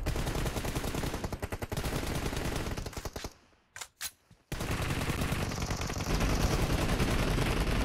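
Rapid video game gunfire rattles in loud continuous bursts, breaks off briefly with a couple of isolated shots, then resumes heavy and sustained.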